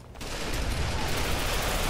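Shotgun fire in the game Ghost Recon Phantoms, a dense loud burst of gunfire that starts abruptly and sustains as a noisy blast for about two seconds.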